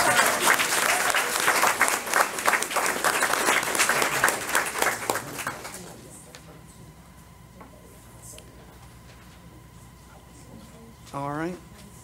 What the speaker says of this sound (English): let's go ahead and give them all a big round of applause